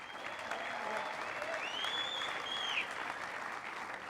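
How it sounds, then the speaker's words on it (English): Applause from an audience at an industry awards presentation fills the room as a steady, moderately distant roar of clapping, with a few whoops and whistles rising above it. "He needs a round of applause for BRA."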